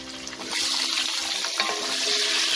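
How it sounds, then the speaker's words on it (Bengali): Long-cut potato pieces added to hot oil with cumin and fried for a Bengali fish curry, a loud steady sizzle that swells after a quiet start and stays close and continuous. "আলুটাকেও আমি লাল করে ভেজে নেব।"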